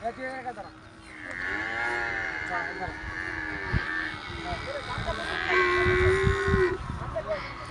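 Young water buffalo calves low and bawl repeatedly at close range at a village fair, drawn-out calls overlapping, with people talking in the background.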